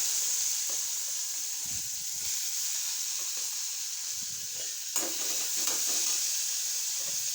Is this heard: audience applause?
no